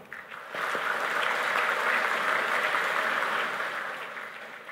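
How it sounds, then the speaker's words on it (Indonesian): Audience applause at a university graduation ceremony, a broad steady wash of many hands swelling after a brief pause and holding loud before tapering slightly near the end. "mari kita apresiasi dengan tepuk tangan bersama"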